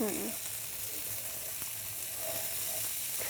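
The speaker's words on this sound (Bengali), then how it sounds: "চালটাকে ভেজে নেব।" Washed rice fries in about two tablespoons of mustard oil, a continuous close sizzle with occasional stirring scrapes and a soft bump, no voices.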